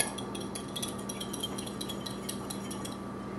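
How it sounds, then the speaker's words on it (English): Eggs whisked with a fork in a bowl for cookie batter, heard as a quick, steady run of light metallic clinks and scrapes that carries on evenly at moderate volume, with no talking. "you want to whisk them with a fork or a whisk"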